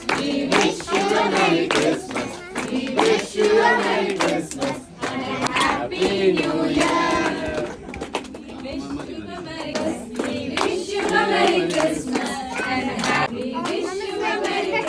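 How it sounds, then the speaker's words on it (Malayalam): A family unit's Christmas celebration fills with a round of hand clapping, sharp claps scattered through lively overlapping voices, cheers and children's chatter, close and loud throughout. "ആ ഐക്യത്തിനും ആ സന്തോഷത്തിനും നിറഞ്ഞ കൈയടി"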